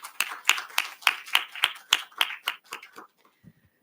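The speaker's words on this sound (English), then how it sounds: "A big round of applause for Priyansha Mishra." Audience applause at an engineering conference session honoring women in engineering: sharp, rhythmic hand claps, about eleven in quick succession, close and fairly loud, tapering off after three seconds into near silence.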